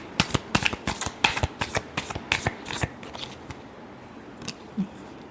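Tarot cards being shuffled during a love reading: a quick run of crisp riffling snaps for about three seconds, then a few scattered taps and a soft low thud, close and fairly quiet with no talk.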